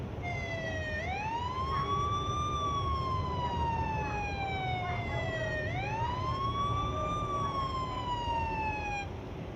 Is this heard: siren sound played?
yes